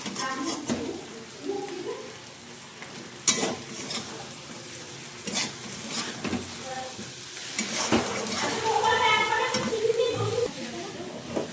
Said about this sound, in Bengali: যে গরম জলটা দিয়ে দিচ্ছি, গরম জল দিয়ে দিলাম।